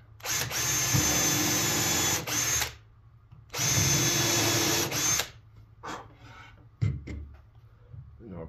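Two long bursts of a power drill whirring as it pre-drills into cedar on a porch swing build, separated by a pause, followed by shorter quick pulses of the drill.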